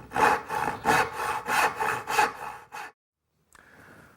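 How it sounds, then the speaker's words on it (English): A hand rip saw cuts a scrap piece of cherry wood in about seven quick, rhythmic strokes, loud and close, then stops, leaving a brief silence and a faint hum. "It pays to mark lines on a scrap piece of wood and to saw a lot to get used to technique and being able to cut straight."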